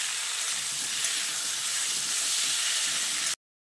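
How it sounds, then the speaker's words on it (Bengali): Potato and pumpkin pieces fry in hot oil in a pan, giving a steady, dense sizzle with a constant hiss that runs unbroken and fairly close before cutting off abruptly near the end. "এবার আলু ও কুমড়োটা দিয়ে তেলের সঙ্গে কিছুক্ষণ নাড়াচাড়া করে"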